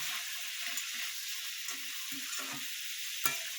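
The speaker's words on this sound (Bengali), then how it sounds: "এটাকে একটু ভেজে নেব।" Salted vegetables for a mixed summer vegetable dish fry in a hot pan, giving a steady close sizzle broken by soft stirring scrapes and one sharp utensil clank near the end, with no talking.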